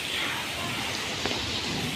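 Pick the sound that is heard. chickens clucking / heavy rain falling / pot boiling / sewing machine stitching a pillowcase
heavy rain falling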